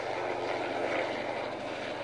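Helicopter in a Tomy Rusty Helps Peter Sam story, a steady moderately loud engine drone passing overhead, droning evenly for about two seconds with no talking.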